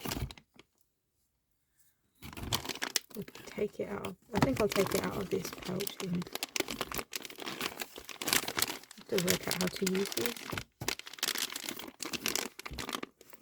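A plastic pouch from a pottery kit crinkles and crackles loudly and almost continuously close by, beginning after a quiet opening, while a person talks throughout.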